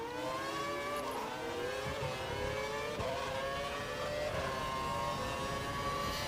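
A Formula 1 race car from the F1 2012 video game runs at full revs and maximum power during the Canadian GP, a loud, steady high-pitched engine whine with layered harmonics that rise and dip slightly across the stretch.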